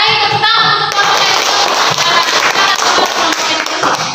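An audience of students and teachers claps loudly and densely for a group presentation in a classroom, close and continuous throughout, with some crowd noise mixed in.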